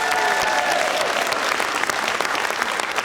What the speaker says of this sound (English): I will allow you to applaud as much as you want.